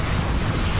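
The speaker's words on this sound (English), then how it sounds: "look at those nice explosions" Deep, rumbling explosions burst in a space battle in the strategy game Endless Space, a dense, loud roar that swells steadily through a brief moment without talk.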